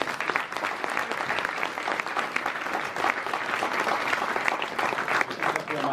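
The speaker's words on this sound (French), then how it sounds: "Je voudrais qu'on vous applaudisse encore" Dense, sustained applause from an audience at the inauguration of the Simone Veil school in Yronde-et-Buron, many hands clapping evenly and loudly for the full stretch with no voices breaking through.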